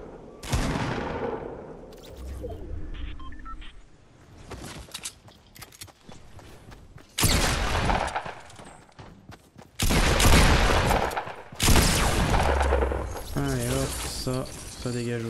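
Gunfire in a solo battle royale match, bursts of shots and sharp blasts coming in loud clusters with gaps between, mixed with game effects and a voice talking over it.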